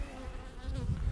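Honeybees drone steadily around beehives in a continuous, close buzzing hum that swells slightly toward the end, with no talk over it.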